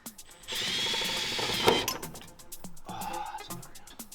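A power drill drives timber screws into steel on a Nissan Almera turbo build, a steady close whir for about a second and a half, then short ratcheting bursts, with brief talk between.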